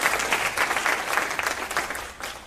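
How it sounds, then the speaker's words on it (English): An audience at a New Rochelle community event applauds a County Legislator with dense, steady clapping that holds close and loud throughout. "A round of applause to the County Legislator."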